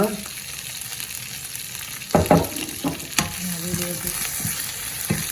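Onions, green chillies and curry leaves fry for a chicken curry as a spoon stirs them, with a loud close sizzle punctuated by repeated clattering scrapes and no voices.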